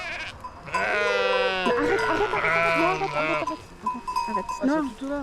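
Rove goats bleating in a Provence farmyard, several wavering cries close by overlapping one another, with people talking at the same time.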